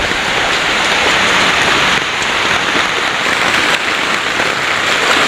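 Heavy rain pours steadily during a typhoon flood, a dense, loud, continuous hiss of water hitting surfaces with no break across the whole stretch.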